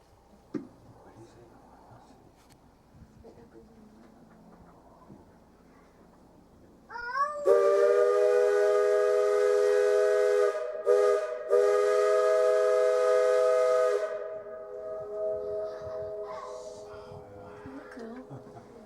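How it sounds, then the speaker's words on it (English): A loud, steady mine-style steam whistle blows for several seconds with a brief stutter midway on the Cripple Creek steam train, after quiet chatter, then fades as voices return. "many mines of the era had steam whistles like ours"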